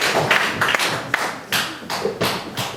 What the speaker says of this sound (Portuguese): Vamos dar uma linda salva de palmas ao Senhor Jesus.